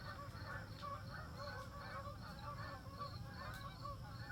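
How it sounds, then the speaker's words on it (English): Geese honk repeatedly at a distance outdoors, the calls coming in a steady, overlapping series at low volume over a background hiss. "I hear geese."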